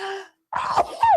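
A short voiced sound, a brief pause, then one close, sharp sneeze burst that trails off with a breathy tail.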